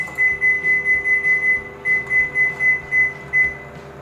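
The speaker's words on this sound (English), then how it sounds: "Now put it inside your microwave." A running microwave oven baking a chocolate cake hums steadily, its motor drone pulsing in a regular rhythm beneath a thin, repeating electronic whine.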